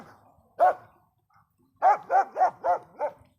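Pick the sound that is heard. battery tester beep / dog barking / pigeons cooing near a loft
dog barking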